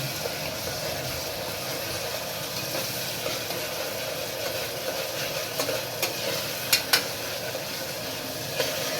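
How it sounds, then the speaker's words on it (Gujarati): Onions cooking in a pan for Gujarati papadi dal, a steady soft sizzle with stirring scrapes and a few brief clicks of a utensil, close and continuous with no talking. "ત્યારબાદ ડુંગળીને છે પકાવી લઈએ"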